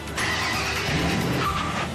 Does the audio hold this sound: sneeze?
no